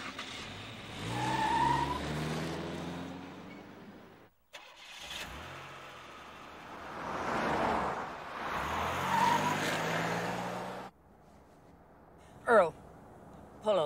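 A town car engine rumbling and driving off, rising and fading in two long passes with a brief cut between, under talk, ending with sharp short knocks.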